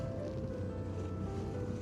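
Steady wind and rushing sea waves in a Norwegian fjord fill the scene, a constant low roar of waves and gusts with no break, close and fairly loud.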